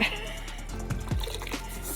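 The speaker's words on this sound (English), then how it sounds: "It's actually pouring out the side at the moment, Nick." Water pours steadily out of a blocked gutter on the side of a VW Crafter van, giving a continuous splashing trickle with some dripping. Faint voices and background noise sit underneath.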